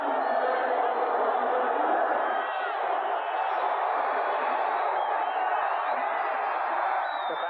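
A capacity stadium crowd at a 1985 Giants at Redskins football game roars in a constant, loud, unbroken wash of massed voices throughout.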